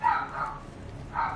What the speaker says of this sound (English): So that's my dog.